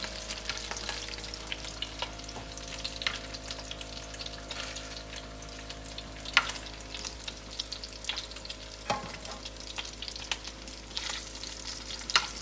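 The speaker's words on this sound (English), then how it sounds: "I don't want it to fry out too much." Brown stew meatballs fry in a pot with a steady, even sizzle and scattered small pops and crackles that run continuously throughout, and no one speaks.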